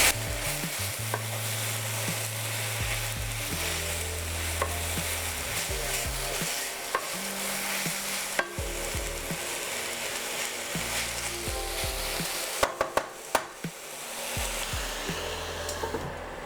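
Spinach cooks in a pot for Finnish spinach soup with a continuous sizzling hiss, occasional stirring clatter and steady low tones underneath.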